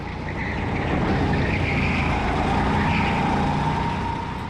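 Racing kart engine recorded onboard with a GoPro, a loud, continuous droning roar under steady throttle with wind rush, swelling slightly in the middle before easing off.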